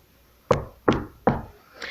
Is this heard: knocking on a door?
yes